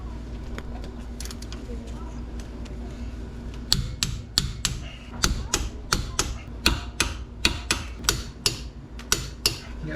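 Wrench tightening the wheel bearing bolts on a 2007-2012 Nissan Altima front hub, with a run of regular, sharp close-up clicks starting partway in over a steady shop background hum.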